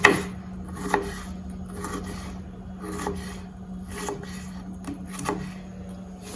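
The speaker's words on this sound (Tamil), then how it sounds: "இதை இப்போ திருப்பி மெல்லுசாக நறுக்கிடும்" A knife chops through vegetables in a steady, even rhythm, about one crisp cut per second against a board, with no talking.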